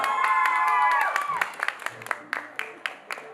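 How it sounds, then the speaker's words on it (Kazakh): Wedding guests clap at a celebration, starting as a crowd burst under a sustained musical tone, then thinning to scattered, separate claps near the end. "Қырмызы менен қарсылас болған Камшатқа қол шапалақ."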